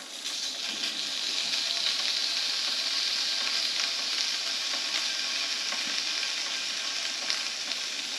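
Food sizzles and fries on a grill in its own rendered fat, a steady close crackling hiss throughout with faint stirring noises.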